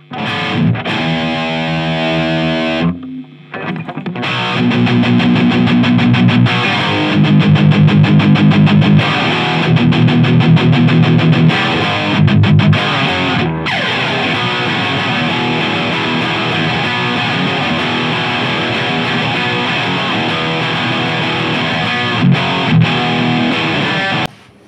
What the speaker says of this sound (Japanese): マーシャルの本当の歪み聞いてみよう